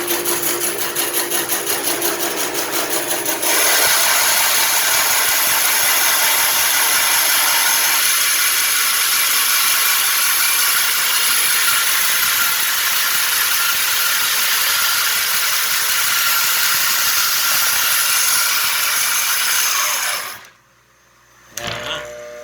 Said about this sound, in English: I'm lined up for a 1-inch board. And fire up the bandsaw.